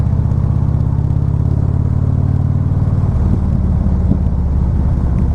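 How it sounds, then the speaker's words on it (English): A Harley-Davidson Street Glide Special fitted with a Vance & Hines exhaust rumbles steadily up close, then after a few seconds a handful of sharp deceleration pops and crackles break through the low engine drone. "there's a lot of decel popping on this thing"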